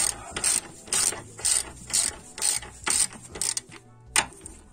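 A ratchet clicks in repeated bursts as a nut is tightened on a Renault Laguna 2 suspension ball joint, about eight close, loud strokes of rapid pawl clicking separated by brief pauses, with no talk.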